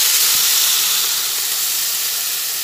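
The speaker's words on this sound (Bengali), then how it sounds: "1 কাপ জল দিয়ে দিলাম" A cup of water hits a hot pan of frying vegetables for a neem-leaf jhol, bursting into a loud, close rush of steamy hiss that stays strong and eases slightly toward the end, with no talking.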